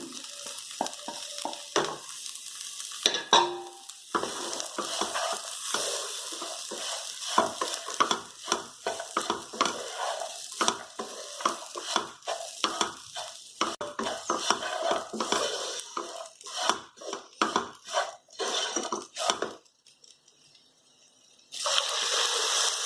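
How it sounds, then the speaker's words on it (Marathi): Roasted vegetables stirred into frying masala in a pan, with repeated scraping strokes of a spoon and an ongoing sizzle, loud and close, pausing briefly near the end. "आता आपण भाजून घेतलेल्या सगळ्या भाजी घालून घेऊया."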